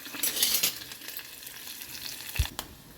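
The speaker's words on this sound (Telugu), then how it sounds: "ఇదిగండి ఉల్లిగడ్డ ఫ్రై అవుతుంది" Onions fry in a pan with a bright, close sizzle that swells early, then settles into a steady hiss, broken by a single soft knock near the end.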